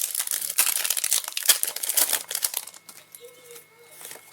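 The foil wrapper of a Pokémon card booster pack crinkles and tears up close in a run of sharp, papery rustles that taper off into quieter handling near the end.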